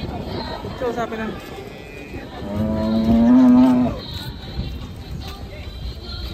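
A cow moos loudly in a long, drawn-out call while cattle are unloaded from a truck, with people chattering around it before and after.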